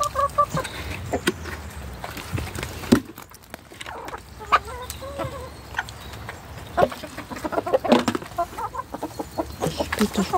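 Hens, including Ameraucanas, cluck and chatter in a backyard coop during feeding, with scattered close clucks and soft calls coming in irregular bursts amid rustling.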